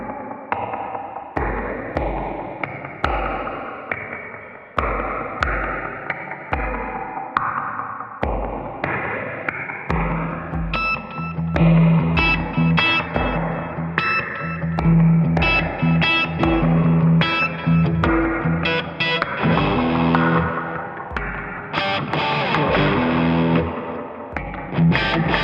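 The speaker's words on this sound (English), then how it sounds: "it sounds like there's definitely a bunch of reverb" An electric guitar is played through heavy reverb and repeat effects. Plucked notes and chords ring out and smear into echoing, distorted trails that build into a dense, sustained wash in the second half.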